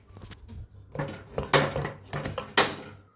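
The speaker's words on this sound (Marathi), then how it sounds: "खोलो आता याचा कुकर" A pressure cooker holding cooked cauliflower and potatoes is opened, giving a few sharp metallic clanks and scrapes of the lid against the pot, close and distinct with brief pauses between.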